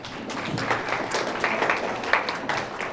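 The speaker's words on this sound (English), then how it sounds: "So give yourself a round of applause." A room of students at an academy meeting gives a steady round of applause, dense overlapping claps at moderate loudness lasting a few seconds.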